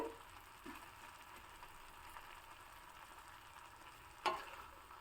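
A tamarind-spiced mixture cooks gently in a pan, giving a quiet, steady sizzle and simmer with a couple of soft utensil taps, one sharper knock near the end.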